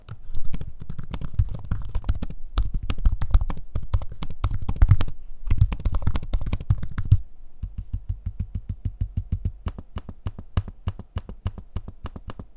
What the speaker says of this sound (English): here's a quick audio sample of me using the keyboard and trackpad so you can hear what that sounds like